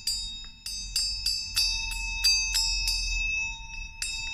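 A small hand bell rings about a dozen bright, shimmering strikes in quick succession, close and clear, to mark the opening of an event, with no talking over it.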